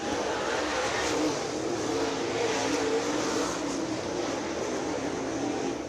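Super late model race cars at Action Track USA roar around the track as a steady, loud engine wash that swells slightly as the pack passes, with no voices.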